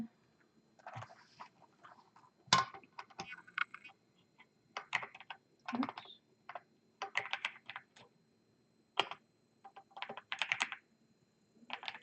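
Someone types on a computer keyboard in irregular bursts of clicky keystrokes separated by short pauses, fairly close and quiet, with no talking.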